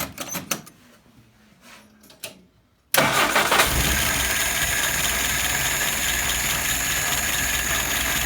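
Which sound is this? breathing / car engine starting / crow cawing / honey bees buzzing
car engine starting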